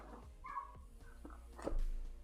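A dog makes brief vocal sounds in a quiet indoor room, a few short yips or whimpers with no talk over them.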